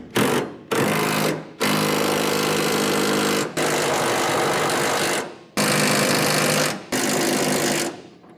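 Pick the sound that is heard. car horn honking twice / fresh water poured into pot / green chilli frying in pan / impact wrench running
impact wrench running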